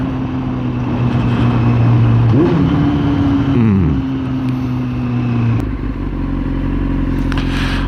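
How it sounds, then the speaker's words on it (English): A motorcycle downshifts inside a tunnel. The loud, close engine drone swells and dips as the revs climb and fall through the gear change, then settles into a lower, steady roar. "Little tunnel downshift."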